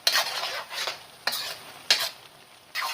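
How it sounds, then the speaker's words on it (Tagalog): Chicken wings stir-fried in a pan, with four bursts of scraping stirring strokes over a steady background sizzle, fairly close and alone with no voices. "stir fry lang natin siya hanggang sa medyo kukunti yung sabaw niya."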